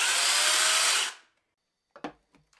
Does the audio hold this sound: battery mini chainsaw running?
yes